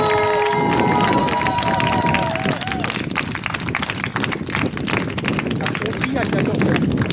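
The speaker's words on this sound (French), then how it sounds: "On peut applaudir bien fort, s'il vous plaît, Denis Gravouille." A large theatre crowd roars and cheers loudly, with running footsteps and rustling noise, as an announcer's voice briefly rings out at the start.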